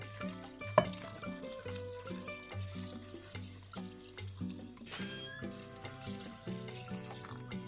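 Water pours into a multicooker bowl over rice and garlic for plov, a continuous trickling fill heard up close under background music with no talking.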